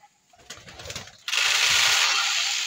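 Pigeons coo in low, soft, repeated bursts up close while being fed, followed by a sudden loud whoosh that may be a flurry of wings or a rustle.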